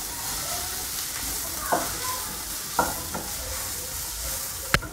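Cooked vegetables seasoned with oregano seeds and black pepper being mixed in a pan for a pizza topping: a low constant sizzle with a few distinct spoon scrapes and a sharp clack near the end, close and without talk.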